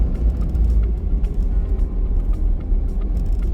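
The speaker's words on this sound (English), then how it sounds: "That's a water truck." A heavy water truck rumbling past on a gravel logging road on northern Vancouver Island, a loud, continuous low engine drone and road roar close by with faint rattles and clanks on top, no voices.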